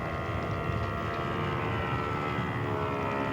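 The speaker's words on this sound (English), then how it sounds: "Nice flyby." A scale model airplane makes a low flyby at a scale aircraft show, its steady engine drone holding loud and even throughout with no voices over it.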